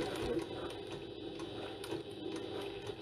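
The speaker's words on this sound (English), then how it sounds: "I'm trying to sew directly on top of my basting stitches." A sewing machine stitches piping onto a bag, running slowly with a low mechanical hum and faint rhythmic ticking, steady and quiet.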